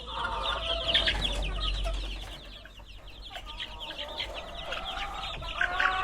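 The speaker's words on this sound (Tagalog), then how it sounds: "Ito yung mga babaeng manok." Several hens cluck and chatter continuously at close range, overlapping calls in an uneven rhythm with a low rumble of background noise.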